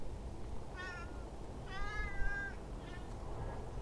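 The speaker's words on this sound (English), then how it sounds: "Weird cat." A cat meows three times, with a short call, a longer drawn-out meow, and a fainter one at the end, heard clearly over a steady low background hum with no talking.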